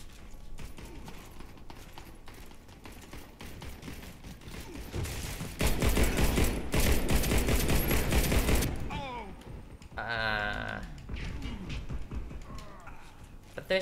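A gold CZ 75 Czechmate pistol fires in the video game Warface. Scattered shots give way to a loud, rapid burst of gunfire midway, then the firing tapers into sharper game effects, with a player talking over parts of it.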